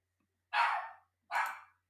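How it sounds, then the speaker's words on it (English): Two short, sharp dog barks a moment apart, heard fairly clearly in an otherwise quiet room. "If you can hear that, that's my dog"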